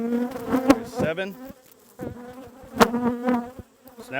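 Honeybees in a hive box during brood box management, buzzing up close with a droning hum that comes in uneven waves and brief pauses.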